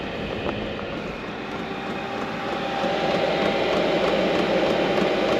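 A diesel heater running inside a small campervan gives a steady, dense rumbling whir with no breaks, growing slightly louder midway, with no voices.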